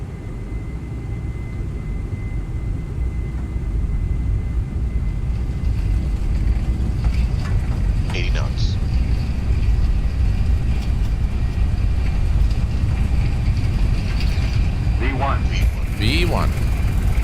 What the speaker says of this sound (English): We are cleared for takeoff.